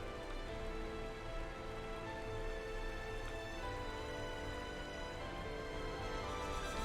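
Steady rain falls during a boat ride across the Erythia Sea in the video game Xenoblade Chronicles 3, an even, continuous hiss of drops at moderate level with no talk over it.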